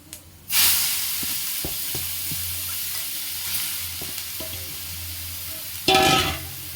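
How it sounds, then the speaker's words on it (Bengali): Grated beetroot drops into hot oil with black mustard seed tempering, setting off a loud, sudden sizzle that settles into a steady frying hiss with soft stirring taps, then a second burst of sizzling near the end. "তারপরে দিয়ে দেবো একটুখানি কালো সর্ষে ফোড়নে দিয়ে গ্রেট করে রাখা বিট"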